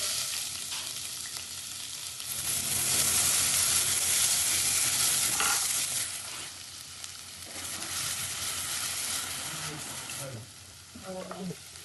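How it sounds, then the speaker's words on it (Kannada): Onions fry in hot oil in a pan for a chicken dry roast, with a steady loud sizzle and repeated stirring scrapes that swell and ease over several seconds. "ಎಣ್ಣೆ ಬೆಚ್ಚಾಂಡು ಈರುಳ್ಳಿ ಪಾಡ್ಗ"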